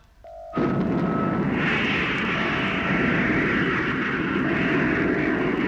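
Sound effect of an atomic rocket motor firing in a BBC radio space drama: after a brief quiet start, a sudden loud, broad roar erupts and holds steady and powerful to the end, with a faint tonal hum underneath.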